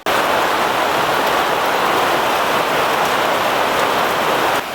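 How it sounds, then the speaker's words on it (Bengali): A sudden heavy downpour roars without a break in a Santal village of mud-walled houses, a dense, loud hiss of rain pounding nearby surfaces for several seconds. "হঠাৎ করে ঝুম বৃষ্টি শুরু হয়ে গেছে"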